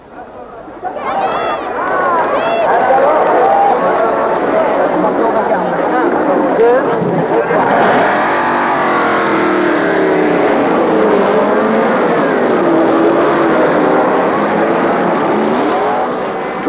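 Le Mans 24 Hours running start in 1963: racing cars fire up and set off together, a loud mass of engines rising and sweeping past under continuous commentary and crowd noise.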